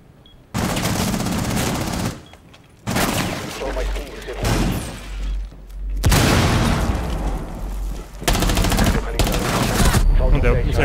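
Gunfire in Rainbow Six Siege during a ranked match: loud bursts of rapid automatic fire and booming shots come in several blocks, separated by brief quieter gaps, with heavy low rumble underneath.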